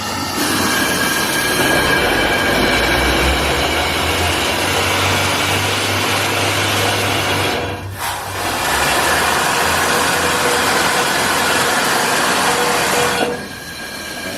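A steady, loud mechanical drone of a tugger hoist running continuously in the Mollie Kathleen gold mine, with a brief dip partway through and a low rumbling motor tone.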